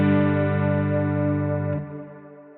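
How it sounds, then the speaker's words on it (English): A sustained electric guitar chord rings out through a Strymon BigSky reverb set to heavy modulation, its wavering wash holding steady before thinning into a softer decaying tail, with no voices. "there's modulation on that reverbed sound"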